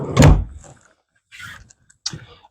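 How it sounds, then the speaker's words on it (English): A pocket sliding door in a 2015 Dutchstar motorhome gives a close, firm thunk, then a short rolling slide and a final soft knock. "Pocket sliding door."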